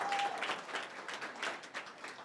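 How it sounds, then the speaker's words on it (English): Applause from an audience at a startup showcase event, a moderate, steady patter of many hands clapping at some distance, holding evenly throughout without voices. "A round of applause would be good."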